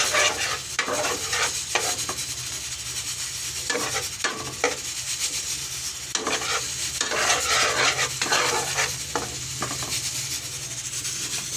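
Garlic frying in butter in a pan, a steady close sizzle broken by repeated scraping strokes of a spoon or spatula stirring, with no voices.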